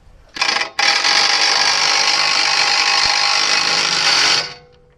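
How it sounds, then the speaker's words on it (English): An 18-volt cordless drill spins up to drive in a ball joint bolt on a Datsun 280Z suspension, a brief start followed by a loud continuous whir of about four seconds before winding down. "I just take the drill here"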